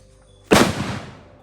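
A single Diwali firecracker goes off with one sharp, loud bang near a parked bike, and the blast decays over about a second. No voices come through.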